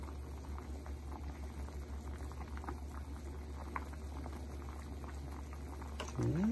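A pot of pork belly sinigang soup with fresh vegetables bubbles at a steady rolling boil, a continuous close simmering patter with a low hum beneath and a brief clink near the end.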